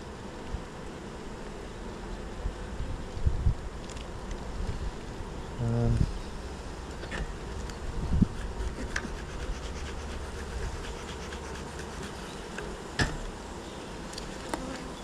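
Honeybees at the hive, fanning with glands up: a close, dense, continuous buzz with occasional louder passes and faint handling knocks, no talk.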